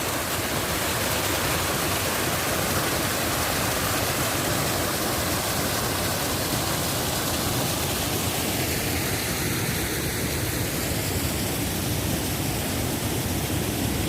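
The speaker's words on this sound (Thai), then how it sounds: "เป็นน้ำตกเล็ก ๆเป็นน้ำไหลแบบสาม สามช่องทางครับผม" Steady, dense rush of flowing water from a small waterfall running in three channels, constant and close, with no voices.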